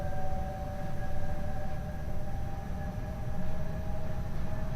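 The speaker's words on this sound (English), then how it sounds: "Love the sound that this train makes." A train from a train-driving video game runs steadily at speed, a continuous low rumble with sustained tonal whine, moderately loud and unbroken throughout, with no talking.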